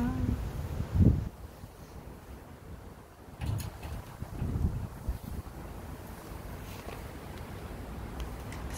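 Strong gusting wind on a rainy typhoon day, a rough low rumble of wind buffeting the microphone in uneven surges, with some rattling and a person speaking briefly.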